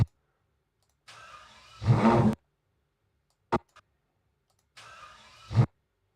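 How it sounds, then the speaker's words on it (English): Two car engine start-ups, each a short burst of cranking that catches into a brief rev and cuts off, separated by silence and a quick click; fairly close and alone, with no voices. "Over here the car started up"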